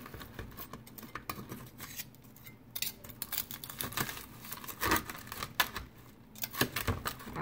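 A knife cuts through oven fried ribs with irregular crisp crunches and clicks, close and fairly quiet, with no speech.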